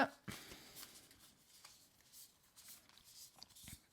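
A deck of cards being cut and handled at a table, soft quick riffles and flicks of card stock that come in short bursts, close and quiet against a faint background.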